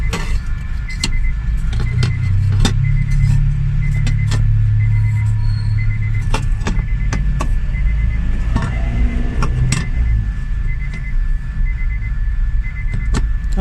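2007 Honda CR-V engine running steadily after a fuel filter replacement, a loud, close, continuous rumble with a few clicks and knocks over it.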